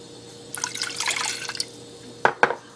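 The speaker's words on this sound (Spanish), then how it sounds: "También le vamos a poner media taza de agua" Half a cup of water poured into a mix of white and apple cider vinegar for a pickling marinade: a short splashy trickle, followed by two sharp drips, close and fairly quiet.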